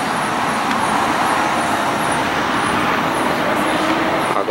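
A Scania K360 coach pulls away from a busy bus terminal, its steady engine rumble and road noise loud and continuous, with no talking.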